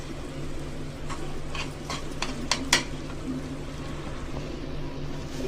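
Goat brain curry in the Telangana style is stirred in a pan. A soft, steady sizzle sits under a short cluster of spoon scrapes and clinks against the metal, close by, with no talking.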